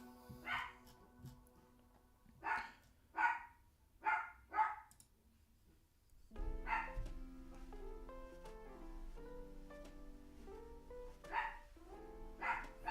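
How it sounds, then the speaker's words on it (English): A dog barks in a room, several sharp barks in a close burst, then more barks over steady background music. "My dog is going off."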